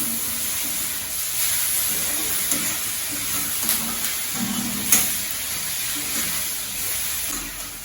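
Steady sizzling and crackling from food frying in a pan, continuous and fairly loud, with occasional soft clinks of stirring.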